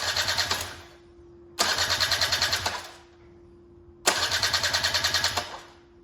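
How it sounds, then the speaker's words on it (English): A Honda Cub EZ90 motorcycle engine cranks over in three separate bursts of rapid, rhythmic chugging, each lasting about a second and a half before tapering off, with short pauses between the attempts. "Take a few cranks to get gas into the carb."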